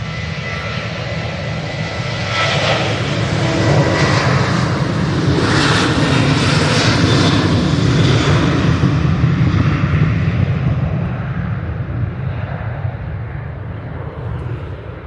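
A Ryanair airliner takes off for Salzburg from Manchester Airport in windy weather, its loud, broad jet engine roar rising and holding strong for several seconds, then slowly fading as it climbs away.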